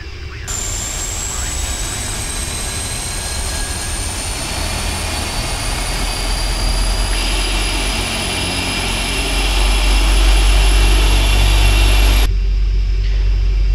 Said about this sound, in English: I'm just going to start the engines now